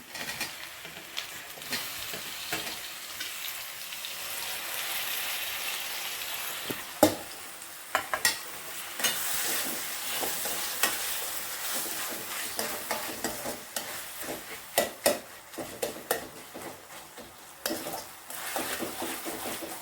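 Chopped tomatoes frying in a pan for potato gravy, a steady soft sizzle broken by irregular scraping and clinking as a spoon stirs them, close and fairly quiet.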